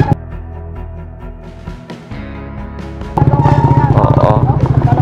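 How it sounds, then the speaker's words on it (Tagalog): A motorcycle idles close by in a roadside stop with people talking, its steady low engine rumble turning into a louder, pulsing throb partway through. "Papatay nga tay yung motor nyo."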